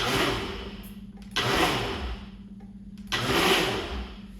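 A countertop blender pulses a dozen raw eggs, giving short whirring motor bursts with brief pauses between them, loud and close, with no talk.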